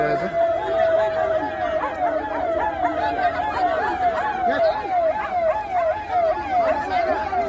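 An ambulance siren at a bus accident scene, rapid repeating yelp-like wails running steadily through the whole stretch beneath loud crowd chatter and nearby talking.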